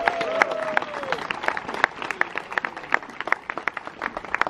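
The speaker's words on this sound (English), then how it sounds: "A big round of applause for all our veterans." A crowd honoring veterans at Silver Dollar City's Fall Harvest Fest in Branson, Missouri, applauds with scattered, uneven clapping, mixed with a few cheers and a brief whistle, continuing steadily throughout.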